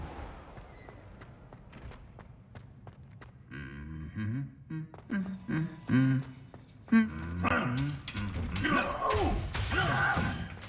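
A nasty dog in the village of Lower Hogsfield in Hogwarts Legacy barks, yips and whimpers in a series of sharp calls that grow louder and busier toward the end.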